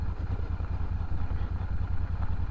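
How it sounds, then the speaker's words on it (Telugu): A Royal Enfield Shotgun 650 motorcycle engine running: a steady, low, pulsing thump at moderate volume with a faint mechanical clatter and no talking. "ఇది థ్రాటిల్ ఇస్తున్నాను, థ్రాటిల్ రెస్పాన్స్ ఎలా ఉందో చూద్దాము"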